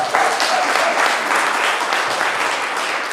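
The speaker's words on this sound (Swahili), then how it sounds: "Hebu mpigieni makofi mazuri." A crowd applauding at a bishop's ordination ceremony, loud dense clapping that fills the hall steadily from start to finish.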